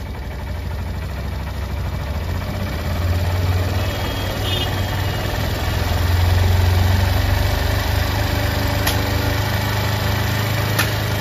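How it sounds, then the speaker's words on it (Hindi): A motorcycle engine idles steadily while its RPM screw is tightened for a mileage adjustment. The close, even mechanical hum rises slightly in level partway through. "दोस्तों अभी ये बाइक स्टार्ट है और यहाँ से हम क्या करेंगे, सबसे पहले इसका RPM टाइट करेंगे।"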